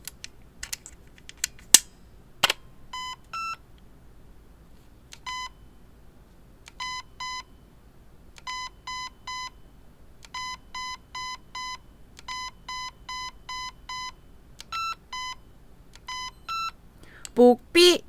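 Short electronic beeps repeat in quick clusters of two to four from an INF M4 airsoft gun's electronic trigger during setting, with a few clicks early on and a soft rustle at the end; no talking.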